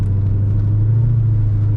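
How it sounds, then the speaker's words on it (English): A 1991 Chevy Corvette C4 V8 idles with a loud, deep, steady rumble close by, a continuous low throb with no voices over it. "if you are a muscle car enthusiast, you would probably say that this has a great V8 rumble"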